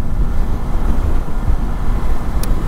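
A 2004 Suzuki DL 650 V-Strom, A2 version restricted to 34 hp, cruises at 110-120 km/h in sixth gear below 5000 rpm. Its low, steady engine drone runs under a heavy, continuous roar of wind buffeting the rider's microphone.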